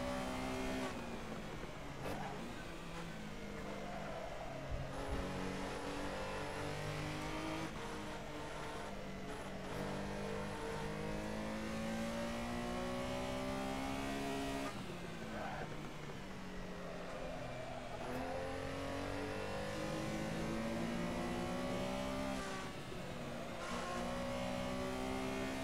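A Porsche Carrera Cup race car in a sim racing game roars through repeated gear changes, its engine note climbing and dropping in steady waves of acceleration and downshifts, loud and continuous throughout with no voices.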